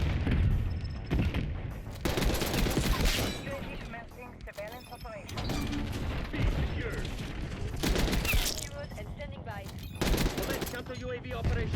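Tanto 22 submachine gun fire in Black Ops 6, loud rapid bursts repeating across the clip amid game explosions and effects, with a voice talking over the shooting.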